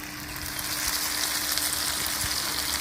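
Turmeric powder sizzles loudly and steadily in hot oil while a Patna-style chicken curry is cooked, a dense, unbroken frying hiss close up.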